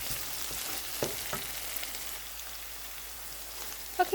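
Tomatoes and onions cooking down in a pan over medium-high heat, a steady low sizzle with a few soft stirring clicks, fairly quiet and with no voices.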